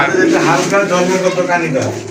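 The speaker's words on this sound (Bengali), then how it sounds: "এগুলো কিন্তু সম্পূর্ণ রানিং কবুতর" A pair of racing pigeons coo close by in a soft, continuous run of throaty calls, with a voice heard alongside.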